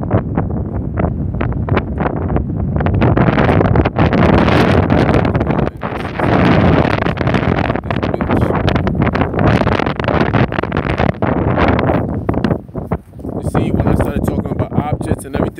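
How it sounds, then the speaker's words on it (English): Heavy wind buffets the microphone continuously, a loud roaring rumble with gusty surges throughout, and faint voices under it. "It's too windy."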